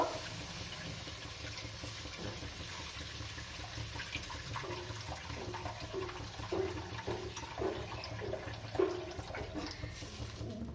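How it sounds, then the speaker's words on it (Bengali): Water poured into a pan of well-fried spice paste for a Bengali fish curry with mustard and poppy seed, a steady watery pouring and bubbling wash with a few small splashes, close and moderately loud, no talk. "এবার আমি প্রয়োজন মতো জল দেব।"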